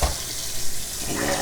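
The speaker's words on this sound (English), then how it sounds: "And we'll add water till they're covered by a couple inches." Tap water runs in a steady, close stream into a pan of dry garbanzo beans and green peas for soaking, a continuous rushing splash.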